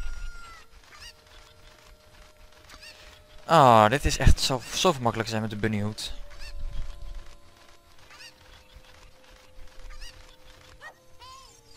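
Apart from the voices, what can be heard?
cucco chicken clucking in the video game Zelda Ocarina of Time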